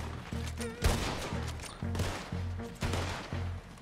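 Gunfire in Red Dead Redemption 2 during an army battle, rapid repeated rifle shots in an irregular volley, loud and close, with a sharp crack near the start.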